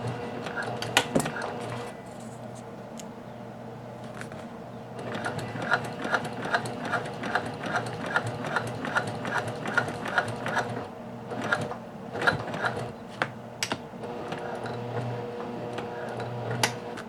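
Sewing machine stitching a beach tote bag, running in a steady rapid patter for several seconds, then stopping and starting again, close and moderately loud.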